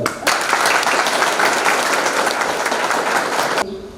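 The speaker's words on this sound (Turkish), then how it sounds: "Kendinizi bir alkışlayın." A crowd applauds steadily for a few seconds, a dense wash of clapping that starts suddenly and stops abruptly.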